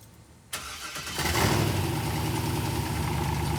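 A Corvette engine, just fitted with a new transmission, fires up after half a second of quiet and settles into a steady, loud idle for the rest of the clip.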